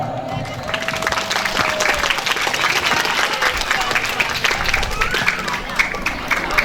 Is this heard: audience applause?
yes